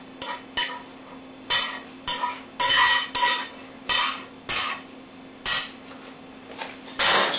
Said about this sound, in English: Spread that sauce around.